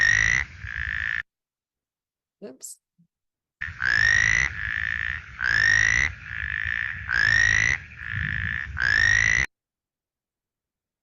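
A small spadefoot toad, no bigger than a thumb, gives loud, close, repeated nasal croaking calls in regular bursts. A brief spoken word comes during a pause early on.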